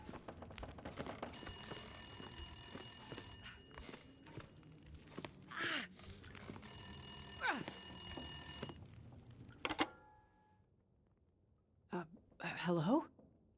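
A telephone rings in the video game The Long Dark in two long sustained bursts, against a low rumbling background with occasional whispered or soft voices between rings.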